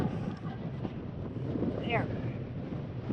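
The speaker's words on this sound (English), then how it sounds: "It's so windy." Strong wind buffets the microphone in a continuous low rumble, with a faint voice briefly heard beneath the gusts.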